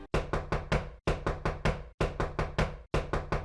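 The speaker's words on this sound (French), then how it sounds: "Vers 22h, quelqu'un frappe à la porte. Pas un petit toc-toc. Non, c'est fort, c'est rapide et c'est insistant." Loud, fast, insistent knocking on a door at night, delivered in four quick bursts of three to four sharp raps each, with brief silent gaps between bursts.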